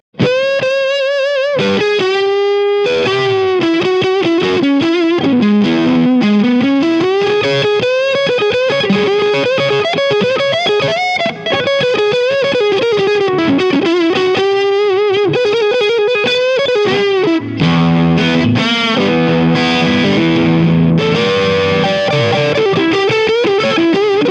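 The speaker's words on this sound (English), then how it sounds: "I'll just quickly turn the distortion up. Need a bit more distortion with the single coils." An electric guitar with single-coil pickups plays through a Boss DS-1 distortion pedal with the distortion turned up. A continuous, loud, saturated melodic line with sustained notes and runs lasts more than twenty seconds, and no one talks.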